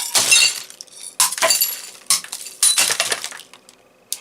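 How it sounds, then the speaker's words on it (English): Glass bottles smashed with a tactical pen, several sharp breaking crashes followed by tinkling, clinking shards, close and loud in a series of bursts. "Let's have a go at breaking the bottle"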